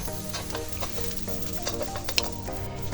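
Sliced onion sizzling in hot oil and margarine in a pan, a steady close crackle with light stirring clinks, no talking.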